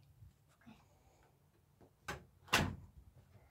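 A front door is pulled shut indoors with two quick knocks of handle and latch, the second a firm, close thud, after a few soft clicks in a quiet room.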